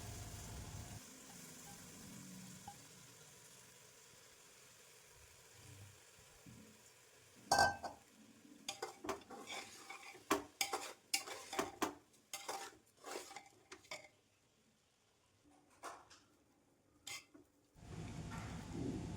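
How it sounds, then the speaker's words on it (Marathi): Washed rice being stirred into spices in a pot for masale bhat, starting with a quiet stretch before a run of close metallic clinks and scrapes of a spoon against the vessel, uneven and clattering, with soft sizzling underneath. "तांदूळ चांगले मिक्स करून घेतलेले आहेत."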